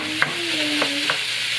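Ground beef frying in a pan while a wooden spatula breaks it up, with a few distinct scraping strokes over a soft, even sizzle.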